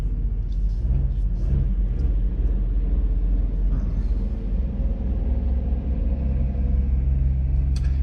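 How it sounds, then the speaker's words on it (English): An old Kenworth truck passes at a distance, a steady low rumble with a mild engine drone that swells slightly and fades, continuous throughout with no voices. "Hear that old Kenworth go by."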